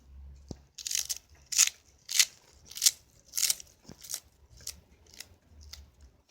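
A knife chops celery leaves crisply in a steady rhythm, about ten sharp cuts in a row, close up and otherwise quiet.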